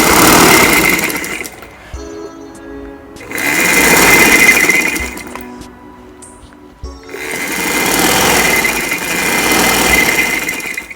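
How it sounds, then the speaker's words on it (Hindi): Sewing machine stitching the chest seam of a shirt, running in three long bursts with brief quieter pauses between them, close and loud with no talk. "ये हमने पहले उस तरफ से सिलाई लगाई है चेस्ट की, अब हम इस तरफ से लगा रहे हैं।"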